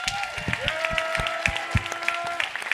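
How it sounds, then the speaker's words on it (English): Audience applause at a live-streamed event: fairly close, uneven clapping from a small crowd, with a sustained tone sounding faintly underneath. "So let's give him a round of applause."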